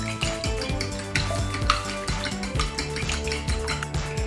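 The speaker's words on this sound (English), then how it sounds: "We're gonna crack 2 eggs. Whisk your eggs up." Two eggs are whisked in a bowl while breading Roman suppli, a quick steady rhythm of metal tapping and scraping against the dish, close and fairly loud with music underneath.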